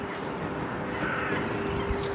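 Crows cawing in the cold evening air near the Kul Sharif mosque in Kazan, a steady flock chorus of harsh calls over a constant hum, with no talk.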